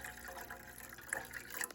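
Water pouring into a small saucepan on a kitchen stovetop while cooking gravy, a soft steady splashing and trickling stream, quiet and close, with a few brighter splashes near the end.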